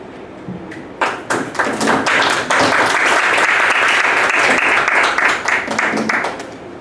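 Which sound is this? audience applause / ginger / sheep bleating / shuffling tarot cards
audience applause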